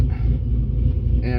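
A 5th-generation Chevrolet Camaro with a Tilton ST-246 twin-disc cerametallic clutch idles while warming up, giving a steady, close, low rumble that holds evenly throughout.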